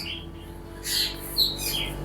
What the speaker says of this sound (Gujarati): જો હવે ઉતરે ને બધા કૌવા છે